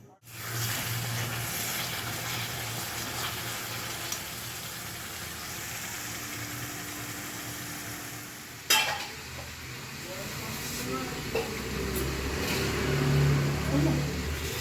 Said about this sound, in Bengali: চলো চিকেনটা রান্না করে নিই